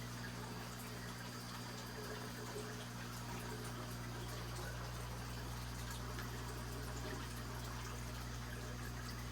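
Aquarium drip system in a home fish room, a steady low pump hum with faint water trickling running continuously and evenly at low level, no one talking.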